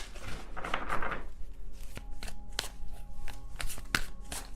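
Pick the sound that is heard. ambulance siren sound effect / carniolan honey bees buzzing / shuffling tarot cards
shuffling tarot cards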